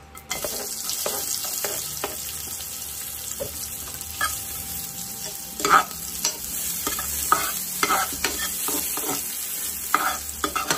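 Onions sauté in a pan for pork belly sinigang, a steady sizzle running throughout while a utensil stirs and scrapes with intermittent clinks and shuffles.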